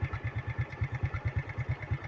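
Small motorcycle engine running steadily at low revs, a regular throbbing putter pulsing about eight times a second, close and continuous without talk, on a rural road lined with coconut trees.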